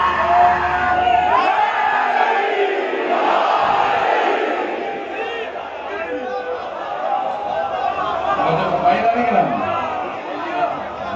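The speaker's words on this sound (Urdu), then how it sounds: "دونوں ہاتھ بلند کر کے پوری طاقت سے نعرے کا جواب دے گا۔" At a Muharram religious gathering in Lahore, a large crowd roars back a slogan in loud, forceful shouts. The chanting rises and falls in waves, mixed with raised voices and chatter.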